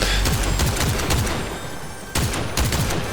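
Revolver shots ring out in Fortnite, a loud, close, rapid series of cracks with a brief lull midway before the shooting picks up again.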